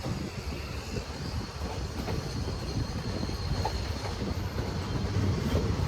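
The Nagercoil–Kottayam Express rolls slowly into Thiruvananthapuram North, heard from on board as a continuous low rumble with faint rail clatter that grows slightly louder toward the end.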